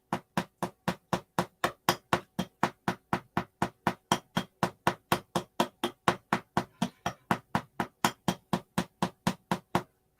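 A small hammer taps a doll in a fast, perfectly steady rhythm, dozens of close, crisp knocks repeating evenly without pause.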